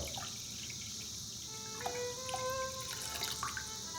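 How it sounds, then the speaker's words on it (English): Indiana wine poured from a full bottle into a punch bowl, a soft liquid trickle with rising gurgling tones over a quiet room hiss, steady and close for several seconds. "We're gonna take our full bottle of wine, pour that in."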